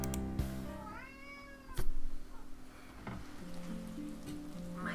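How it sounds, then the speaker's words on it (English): A house cat lets out one long, loud, drawn-out meow up close, followed by a sharp knock and low rustling, with a steady hiss in the background and no speech. "My cat is screaming and it's really annoying"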